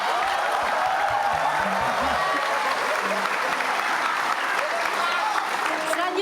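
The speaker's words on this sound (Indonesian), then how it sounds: "Ya, kita boleh tepuk tangan." A room full of students applauds at a campus candidate debate, dense steady clapping at close range throughout, with a voice briefly speaking underneath early on.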